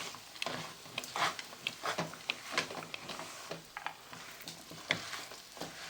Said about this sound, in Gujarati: ફેરવતા જાઓ, મિક્સ કરતા જાઓ આવી રીતના.